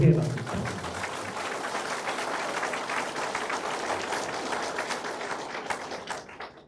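Faint, scattered clapping at a Seongnam Pangyo residents' briefing for a Liberty Korea Party National Assembly member, rather quiet and distant, starting just after a voice and thinning out toward the end.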